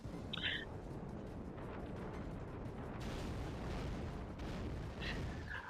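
The Earthquake move sound effect in Pokémon Ultra Moon, a sustained low rumbling roar with rolling crashes and bursts layered on top, carrying steadily through the stretch with short bright electronic blips near the start and end.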